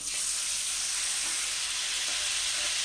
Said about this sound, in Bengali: এবার আমি মশলাগুলো সব দিয়ে দিচ্ছি